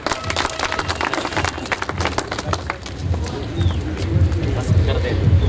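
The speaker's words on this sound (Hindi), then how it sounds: "एक बार जोरदार तालियां इनके लिए।" An audience gives loud applause at a business event: many hands clap in a busy rattle throughout, with voices mixed in beneath.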